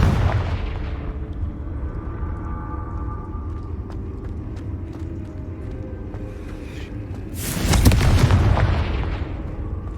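A Confringo fire spell from Hogwarts Legacy explodes with one loud, sharp boom that rolls into a rumbling tail, over a steady low ambient drone.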